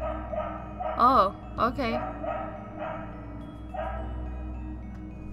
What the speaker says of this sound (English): Oh, the dog is still barking.